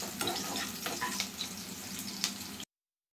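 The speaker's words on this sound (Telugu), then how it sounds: "ఇదండి ఉల్లిపాయలు బాగా వేగిపోయాయి." Chopped onions fry gently over a low flame, a soft continuous sizzle with light crackles and a few faint scrapes, close and steady for a few seconds before cutting off.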